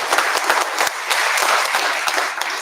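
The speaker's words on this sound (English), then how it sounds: "let's give a big round of applause to the two dancers." An audience at a university concert applauds two dancers after a performance, a dense wash of clapping with sharp individual claps standing out, fairly close and fading slightly at the end.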